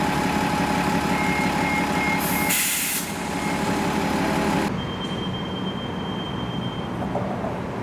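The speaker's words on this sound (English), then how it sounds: "annoying kneeling beep ever, are the Nova buses." A Nova transit bus sounds its kneeling warning, a repeated high electronic beep over a loud idling diesel, with a hiss of air brakes releasing midway before the engine settles quieter.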